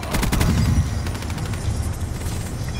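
Rifle gunfire in the video game Call of Duty: Black Ops III, a loud, rapid burst of close shots at the start, fading into rumbling echoes and background game noise.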